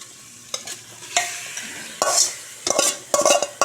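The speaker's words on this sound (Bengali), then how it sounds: "এবার এর মধ্যে মাটনটা ঢেলে দেবো।" Mutton goes into frying masala in a pan and gets stirred, loud scraping and clattering strokes of a spoon against the pan coming in irregular bursts over a constant sizzle, no talking.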